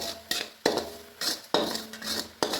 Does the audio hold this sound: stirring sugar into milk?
yes